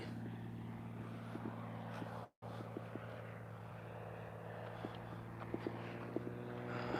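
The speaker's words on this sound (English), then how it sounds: "It's a nice sounding plane there." A propeller airplane drones overhead in a steady, continuous hum heard from a distance, with faint footsteps and small knocks nearby.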